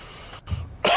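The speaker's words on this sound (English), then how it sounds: "That last cough was real." A single real cough bursts out loudly and close at the very end, after a brief throat-clearing rumble and a quiet pause.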